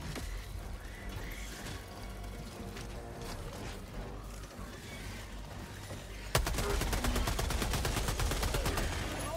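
Dense automatic gunfire crackles in the Helldivers 2 video game, a continuous rattling barrage that jumps sharply louder and faster partway through as heavier fire opens up.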